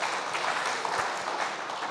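Audience applause at a German political talk event, a dense, even patter of many hands clapping throughout, fairly loud and steady with no voice on top.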